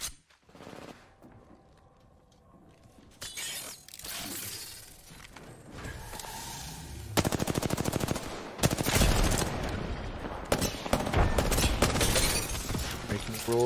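Heavy gunfire in an Apex Legends match during a competitive regional finals broadcast: sharp shots and sustained automatic bursts that grow dense and loud in the second half, mixed with shattering impacts and game noise.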